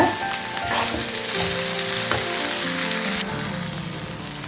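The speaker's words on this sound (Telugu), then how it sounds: "చింతకాయ ముక్కల్ని ఆయిల్లో కొంచెంసేపు మగ్గనించుకున్నాం." Pieces of raw tamarind frying in oil make a loud, continuous sizzle with spattering crackles. It is heard close and alone, with no talk.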